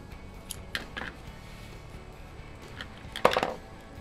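Scissors snip paper for a handmade birthday card in a few quiet, separate cuts, with a brisker cluster of snips near the end, close and soft.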